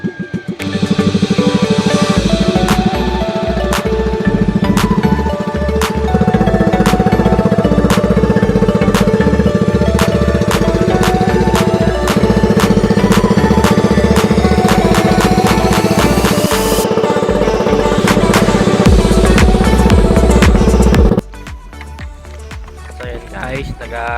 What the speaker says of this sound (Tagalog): Yan, nag-start na ng makina.